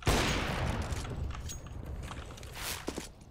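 Gunfire in a tactical shooter video game, fired through a smoke grenade: a loud initial blast followed by a rumbling, crackling stretch of shots and scattered sharp reports, fairly close.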